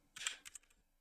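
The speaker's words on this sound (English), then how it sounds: "I'm typing slow because my keyboard is busted and I need a new one." Typing on a busted computer keyboard: a quick cluster of near, faint key clicks followed by a few softer taps, then quiet.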